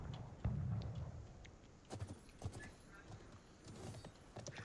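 Horse hooves clatter in Conqueror's Blade, a medieval battle video game, as quiet irregular clip-clop thuds over low ambient battle noise.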